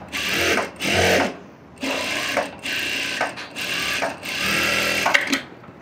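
Sewing machine stitching along a fabric edge after notching, running in several loud, close bursts of rapid stitching separated by short pauses.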